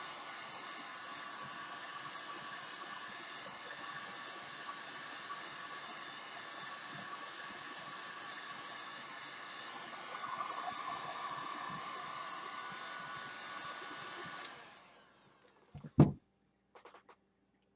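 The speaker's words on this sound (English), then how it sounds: "Here's that heavy duty Mastercraft heat tool I have." A heavy-duty Mastercraft heat tool runs with a steady, fan-driven whoosh for about fourteen seconds before being switched off, followed by a few handling clicks and knocks.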